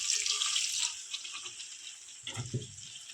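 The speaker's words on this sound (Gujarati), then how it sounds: "થોડુંક પાણી એડ કરી અને સરસ આપણે સોતરી લેશું" Water pours into a pan of crab curry masala with a bright hissing splash for about a second, followed by quieter kitchen sounds and a brief low clatter.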